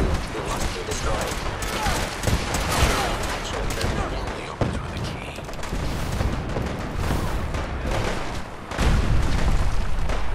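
Dense, continuous gunfire with booming explosions in the battle at Bunker Hill in Fallout 4, sharp repeated shots and heavy blasts layered over ongoing combat noise, loud and close, with talk heard beneath.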